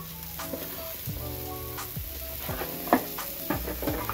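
Chopped onion dry-roasting in a pan for misal, stirred with a spatula that scrapes repeatedly against the metal under a soft steady sizzle, close and fairly quiet.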